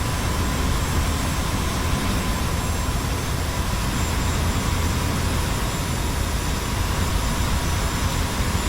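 Steady, loud roar of an F-86F Sabre jet engine held at throttle in DCS World, a constant broadband rumble and whine with no talking over it.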